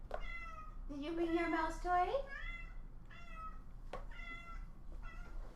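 A cat meows several times up close, drawn-out and rising, followed by shorter meows while a person speaks softly in between.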